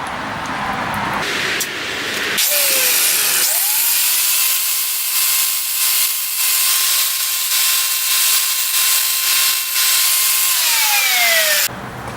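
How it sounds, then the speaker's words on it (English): A power tool spins up with a flat disc and grinds metal edges to deburr them for a stool repair, making a loud, steady whine that holds for about eight seconds before winding down. A short burst of grinding comes before it. "now we'll put the flat disc on here, and we'll go ahead and deburr all our edges."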